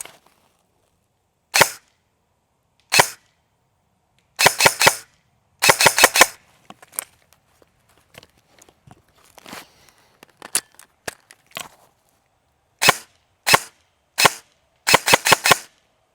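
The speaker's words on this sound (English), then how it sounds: "I'll just show you how snappy the sound of this gun is when you shoot it" A compact MCX-style airsoft rifle fires sharp, snappy full-auto bursts, short strings of rapid cracks separated by pauses, with quieter handling clicks in between, close and loud.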